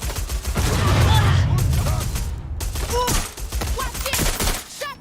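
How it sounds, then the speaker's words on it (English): Rapid automatic gunfire in Watch Dogs: Legion, a sustained fusillade of close shots with a short pause midway, underneath shouted voices and chirpy game sounds. "Shots fired!"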